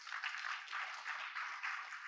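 Steady applause from an audience at a public speech event, a dense continuous patter of clapping holding at moderate level for about two seconds with no voices over it.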